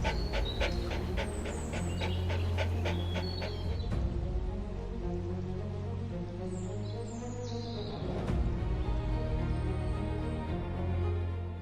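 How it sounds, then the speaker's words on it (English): African wild dog (Lycaon pictus) panting in the wilderness, a steady rhythmic breathing heard up close throughout, with bird chirps high above and a low rumble beneath. "the African wild dog, also known as Lycaon pictus"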